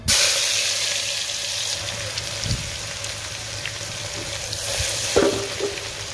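Garlic sizzles steadily in hot oil in a pan, a loud continuous frying hiss with a few brief stirring clinks and scrapes, no voices.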